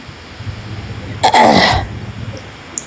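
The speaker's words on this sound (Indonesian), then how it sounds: "Kesian, batuk-batuk." One person gives a short, harsh cough burst at moderate volume against a quiet room background.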